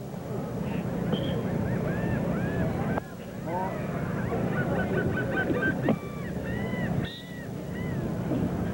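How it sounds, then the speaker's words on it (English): Birds call repeatedly, with honking cries coming and going above a beach volleyball match in Pensacola, set against steady wind and crowd ambience. "The birds are hovering, waiting to see what's going to happen."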